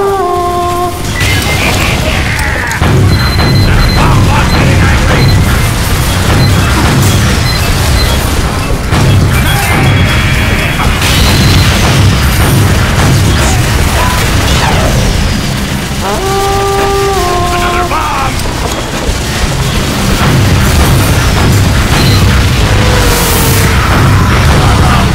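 Sentry buster blasts and other explosions in Team Fortress 2 Mann vs. Machine on the Casino City map, a loud, continuous barrage of booms and crashes layered with gunfire and game sounds throughout.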